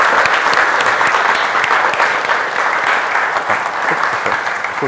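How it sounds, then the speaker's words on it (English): Loud, sustained applause from a crowd for team members called up at a corporate gathering, a thick continuous wash of clapping that holds steady for several seconds. "very big round of applause"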